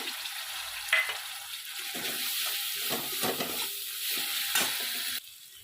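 Spices frying in a pan for a vegetarian mung dal and pointed gourd curry, hing among them, a continuous close sizzle with stirring scrapes that stops abruptly near the end.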